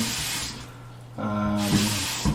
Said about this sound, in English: this is just controlled by one lever, which you decide if you want it cold or you want warm